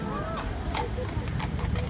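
Police horses' hooves clip-clop on hard ground in a few scattered strikes at moderate distance, while people talk over them.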